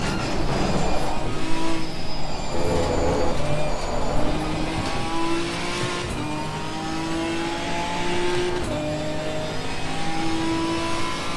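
Ginetta G55 GT4 race car in Assetto Corsa Competizione pulling out of the pits, its engine revving loudly through rising and falling gear changes, with steady mid-pitched drone and occasional tire noise, no talking.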